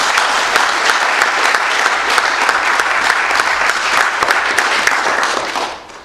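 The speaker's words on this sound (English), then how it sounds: "if you could kindly join me in giving him a round of applause" An audience at a media roundtable breaks into steady, dense applause that carries on for several seconds before fading out.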